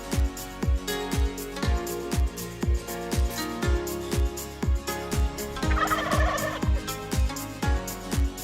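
Wild turkeys gobble repeatedly at an RV park campsite in San Luis Obispo, California, a steady run of loud, close, rhythmic calls filling the whole stretch with no talking.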